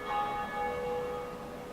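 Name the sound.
bell ringing in video game Dark Souls Remastered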